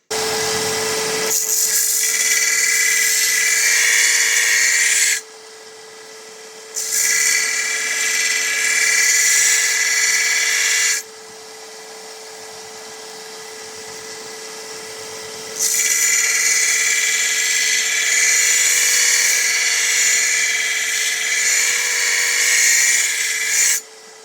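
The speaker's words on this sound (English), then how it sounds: "Love using this tool for sharpening blades." A grinding tool sharpens a lawn mower blade at a 30-degree angle, producing three loud, sustained high-pitched grinding passes separated by short pauses in which only the motor hum continues.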